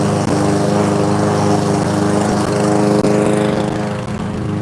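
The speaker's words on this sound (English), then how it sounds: "Yep, you're hearing lawnmower." A petrol lawn mower runs steadily while cutting grass, a loud close engine drone with a constant pitch and no speech over it.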